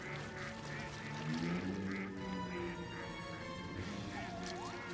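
Ducks quack in a scene from the horror film Creepshow 2, a run of nasal honking calls over dense background noise and film score.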